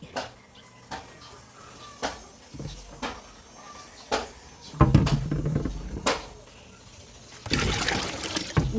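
Water splashes and trickles as it is poured, with intermittent knocks and clatters of a container, ending in a louder rushing pour.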